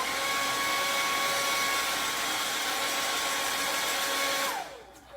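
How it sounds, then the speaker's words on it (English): A blow dryer on its cool setting blasts air over a craft transfer with a steady, loud whoosh and whine, running continuously close by before switching off near the end. "now I'm going to hit it with my blow dryer"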